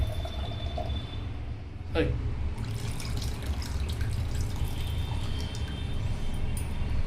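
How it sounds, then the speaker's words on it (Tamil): Tender coconut water poured into a bowl: a close, steady trickling and dripping of liquid runs throughout, with a brief clink near the start and faint kitchen background noise. "எனக்கு இந்த அளவுக்கு இந்த பவுல் நிறைய அந்த இளநீர் தண்ணி கிடச்சிதுங்க."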